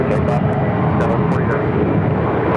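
A Southwest jet departs from runway 7 left at Phoenix airport with a loud, steady engine roar. A radio voice talks over the noise throughout.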